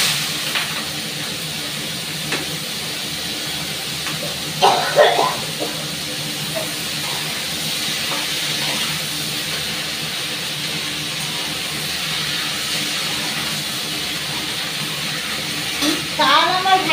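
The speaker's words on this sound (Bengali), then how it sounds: "এবারে আমি সবজিগুলো সব দিয়ে দেবো।" Vegetables dropped into hot oil in a home kitchen give off a steady broadband hiss and sizzle throughout, with a few brief louder bursts as pieces hit the pan.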